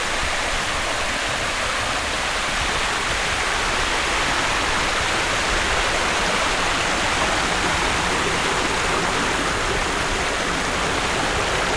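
Mountain stream of spring water pouring from its rocky source in the hills of Sitio Guimbal, Libmanan, Camarines Sur, a steady close rush of flowing water with no pauses, alone throughout.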